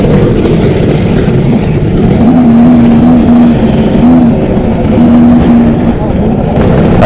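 Many two-stroke scooter engines idle and rev together in a loud, steady drone at the start of a winter scooter rally ride, with a thin whining tone rising and fading in the background.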